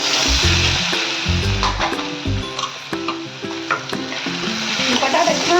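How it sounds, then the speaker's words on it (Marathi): Finely chopped potato frying in a pan for sabudana khichdi, with a loud continuous sizzle and repeated scraping stirs over a rhythmic musical backing. "म्हणून आपण पहिल्यांदा याच्यात बटाटा टाकून घेणार आहोत."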